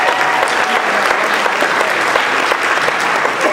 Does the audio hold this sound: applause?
yes